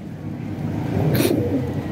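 Pigeons cooing close by, a soft low throaty coo rising briefly over a murmur of background noise and faint room sound.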